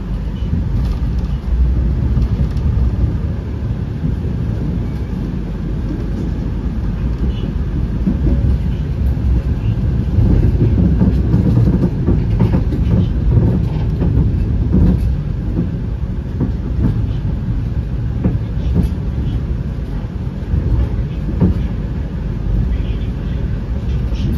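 Interior of the KAI Taksaka train running from Jakarta to Jogja: a loud, continuous low rumble of wheels on rails with faint rhythmic clatter, steady and close throughout.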